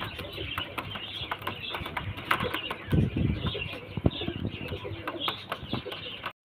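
Pigeons, including a female bird, stir and call close by in a loft, with soft cooing, scattered clicks and wing shuffles rising and falling.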